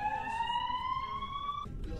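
A faint ambulance siren from a sea-creature video game plays as a single rising tone over low game background noise, then cuts off.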